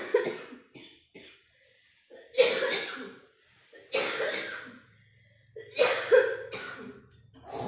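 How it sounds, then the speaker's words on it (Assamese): A person with a cold coughs in several harsh bursts, some rough and throat-clearing, spaced a second or two apart, close and loud with quiet breaths between. "অকণমান কাহৰ প্ৰব্লেম হৈ আছে, চৰ্দি কাহ।"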